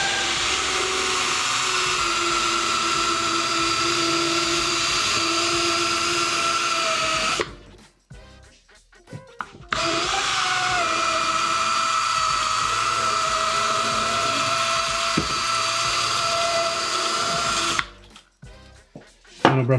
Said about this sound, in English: use an electric drill with our rotary brushes to get that job done